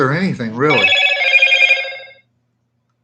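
A telephone rings with a bright, warbling electronic tone for about a second and a half right after a man finishes a few words, then cuts off abruptly.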